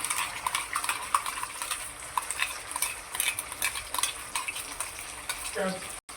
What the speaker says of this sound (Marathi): आणि तोपर्यंत परतून घेऊया